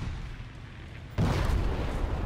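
A 500-pound bomb explodes in War Thunder tank combat, a sudden deep rumbling blast that cuts in midway over a low background and keeps roaring to the end.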